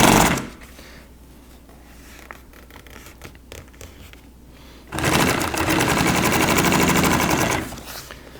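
A sewing machine stitches boat canvas, close and loud. A short burst of rapid needle chatter is followed by a quiet stretch of handling noise, then a longer sustained run of fast, steady stitching that stops abruptly.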